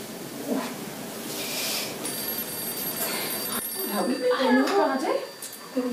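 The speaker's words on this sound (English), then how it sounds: "It's the phone." A telephone bell rings steadily through a domestic room, fairly loud and continuous, with people talking over and around it.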